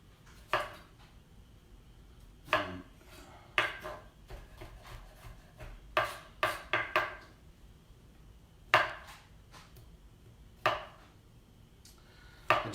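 A kitchen knife slices radishes thinly on a cutting board, ends trimmed off first: about a dozen crisp, close chops at an irregular pace, some single and some in quick pairs, with quiet gaps between.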